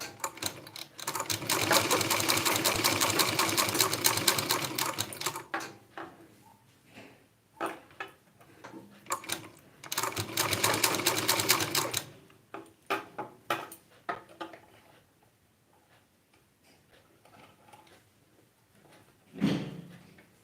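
A sewing machine stitches fabric in two long bursts of rapid, close mechanical chatter, separated by quieter handling clicks and brief pauses.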